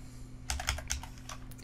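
Typing on a computer keyboard: a quick burst of soft, close key clicks in an irregular rhythm over a low electrical hum, with no talking.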